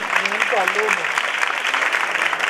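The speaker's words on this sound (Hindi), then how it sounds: "जोरदार तालियां भट्टी साहब के लिए भी बजाएं।" Church congregation applauding at a Christmas sermon, a dense steady wash of clapping filling the space, with a voice speaking briefly over it near the start.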